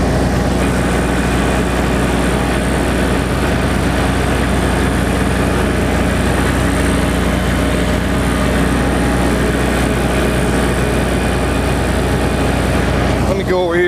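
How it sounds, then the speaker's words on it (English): Loud, steady engine drone of a finishing mower running close by, continuous throughout with a constant low rumble. "you see how nice a job this finishing mower does"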